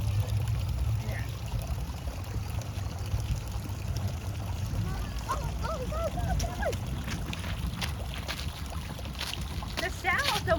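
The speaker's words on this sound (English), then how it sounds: "The sound of the waterfall is quite soothing." A small waterfall at the Royal Park nature playground in Melbourne gives a steady rushing, splashing flow throughout, with wind noise and people talking and calling out over the water.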